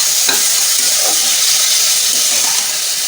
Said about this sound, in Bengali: এবার এর মধ্যে আমি একটু জল ঢেলে দেবো